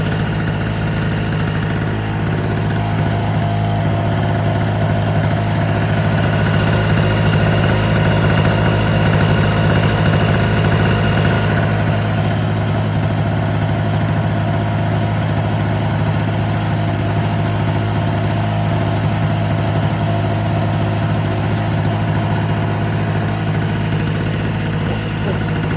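An engine runs at a loud, steady idle during a flue gas analysis in an air quality laboratory, its constant droning hum unbroken for the whole stretch, while a person speaks over it.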